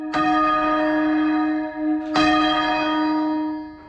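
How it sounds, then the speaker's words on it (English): Church bells rung for the coronation of King Charles III: two loud, resonant strikes about two seconds apart, each with a long ringing decay, heard alone and close. "Bell ringers will always ring for royal celebrations, whatever they are."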